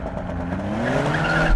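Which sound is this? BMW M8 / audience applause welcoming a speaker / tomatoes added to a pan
BMW M8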